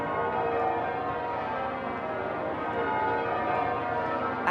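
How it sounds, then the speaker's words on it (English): Church bells of St Paul's Cathedral toll in a dense, continuous wash of overlapping ringing tones, loud and sustained with no voices. "The bells at St Paul's toll for royal weddings."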